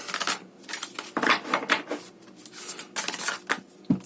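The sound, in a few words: shuffling a deck of cards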